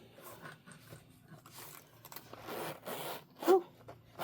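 A zipper being drawn closed around a natural veg-tanned leather 6-zip pen case, heard as a soft, continuous rasping slide broken into short pulls, close and fairly quiet, with a louder tug near the end.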